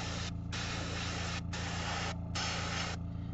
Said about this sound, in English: we're going to just spray over here